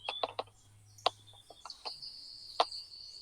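A small bird chirps near an indoor online Portuguese lesson, giving several short sharp calls scattered irregularly through a quiet room, some louder and closer than others.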